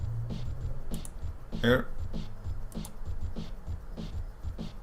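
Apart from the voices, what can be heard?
drum samples from video game Snake's Revenge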